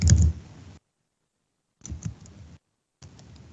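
Keys on a computer keyboard are tapped in short bursts of clicks, separated by complete silences, close and moderately loud.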